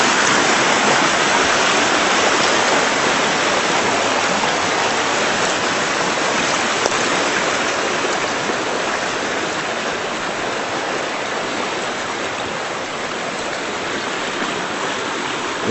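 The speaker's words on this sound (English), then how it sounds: "Creek is really roaring." A creek roars with rushing water, a loud, steady, dense broadband rush that holds constant for the whole stretch, close by and with no voices.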